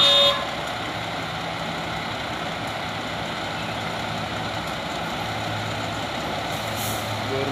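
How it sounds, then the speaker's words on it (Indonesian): A heavily loaded Hino trailer truck labours on a steep hill climb, its engine a continuous low drone with a brief air-brake hiss at the start and a faint horn-like toot near the end. "Trailer Hino."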